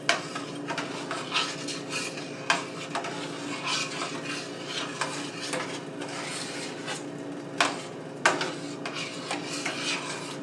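A spoon stirring vegan gravy in a pot until smooth, continuous scraping and swishing with sharp clinks of metal against the pan and a faint simmer beneath.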